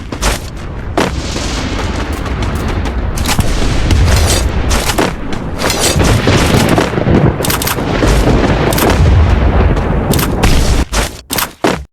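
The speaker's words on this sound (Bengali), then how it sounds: "তার স্নাইপার স্কোপকে অন করে শটগুলো কানেক্ট করার চেষ্টা করছেন" Sniper gunshots crack in a battle royale video game, a dense run of loud sharp reports and booms repeating irregularly over about twelve seconds of busy in-game noise.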